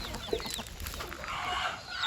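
A free-range country rooster clucks softly a few times nearby, with light background noise and no talking.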